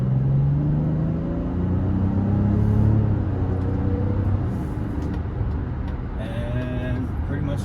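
2024 Mazda CX-90 Turbo S SUV accelerating to 60 mph, heard from the cabin as a rising engine hum with gear-step tones climbing over several seconds, then settling into a steady road rumble with faint voice sounds near the end.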